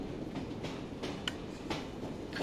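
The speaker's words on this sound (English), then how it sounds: "So I think this train basically stops wherever you jump off, and then when you get back on it, it'll just start running again." A train in the Assassin's Creed video game rolls along rails in Victorian London, a steady rumbling clatter with periodic clicks and light metallic squeaks, continuous and fairly near.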